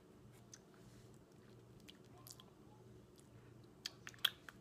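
Quiet close-up chewing of a Chick-fil-A chicken sandwich dipped in sauce, soft wet mastication with a few sharper clicks near the end over a faint steady hum.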